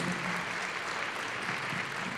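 A steady round of audience applause at a gathering for mental health professionals, warm and continuous from start to finish with no break, thanking a colleague who leads the group's daily grounding exercises.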